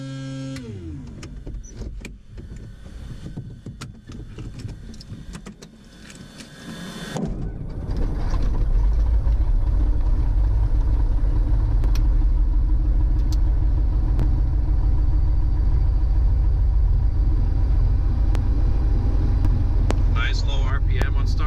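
Light aircraft piston engine starting, a few seconds of cranking and talk before the engine catches around seven seconds and settles into a loud, steady low-RPM idle, propeller running close by.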